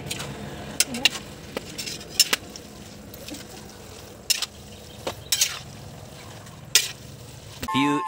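Bihon rice noodles with fresh ingredients being stirred in a hot pan, a steady sizzle broken by repeated sharp scraping strokes of the utensil, close and fairly loud.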